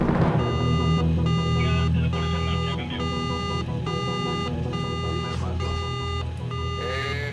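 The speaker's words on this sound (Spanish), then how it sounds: "las alarmas de la primera boya saltaron en el Calipso" An alarm on a research ship's buoy monitor beeps in a steady repeating electronic pattern, loud and close, over a low engine hum with faint voices in the background.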